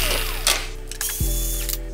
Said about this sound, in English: I'm gonna remove the 2 bolts on each side of this snorkel.